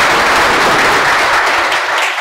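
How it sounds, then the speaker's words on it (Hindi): Loud, sustained applause from a class audience in a Patna library classroom, dense clapping filling the whole stretch and tapering slightly at the end, with no voices over it. "जोरदार ताली हो जाए"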